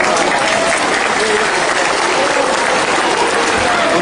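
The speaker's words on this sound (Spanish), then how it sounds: "un fuerte aplauso" Loud, sustained applause from a large audience at a televised event in Cusco fills the space continuously and evenly, close and dense with no break, and a crowd murmur is mixed in beneath.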